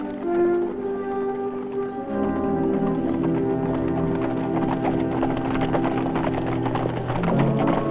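Horses' hooves clip-clopping in a Western set on the trail to Tombstone, a quick run of soft rhythmic hoofbeats under a steady hum and a musical score, with no talking.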